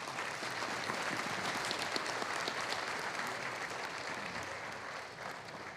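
Sustained audience applause fills a hall during a sports hall of fame ceremony, dense steady clapping from a large crowd that continues throughout and fades slightly toward the end, with no voices on top.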